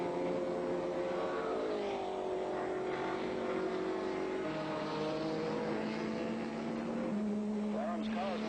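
Race car engines at the 1964 Nassau Trophy on the Oakes Field course, a sustained engine drone with shifting pitch as cars run, heard beneath continuous commentary from an announcer.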